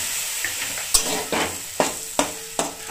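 Semolina in a hot pan sizzles and hisses as water is splashed in and a spoon stirs it, close and loud, with several sharp bursts of sizzle and scraping at a fairly regular pace.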